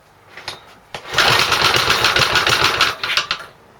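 An old small engine is turned over by hand with fuel and choke on, catching after a few sharp pulls and then running as a loud, rapid, sputtering putter for about two seconds before it stumbles.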